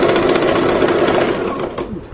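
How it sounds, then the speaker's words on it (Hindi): A Brother GS1700 sewing machine stitches a straight seam along a fabric edge, a loud, rapid, even whir close by that eases off and slows near the end. "तो इस तरह सीधी सिलाई लगाती हूँ।"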